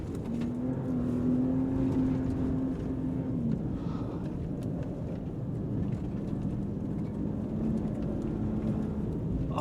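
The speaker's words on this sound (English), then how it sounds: "I can just fly through here, using an off-road performance truck as you're supposed to," A 2025 RAM RHO off-road performance truck drives fast over rough terrain, its engine a loud, steady rumble with a rising then falling whine, continuous and close throughout.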